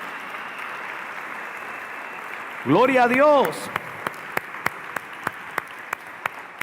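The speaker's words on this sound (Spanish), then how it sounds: "¿Le puede dar un fuerte aplauso al Señor?" A church congregation bursts into applause after a preacher's call, a brief dense clap that fades into scattered single claps, with a voice speaking over it.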